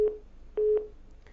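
A telephone busy signal after a dropped call on a TV phone-in show: two short, clean electronic tone pulses spaced apart, fairly loud and alone.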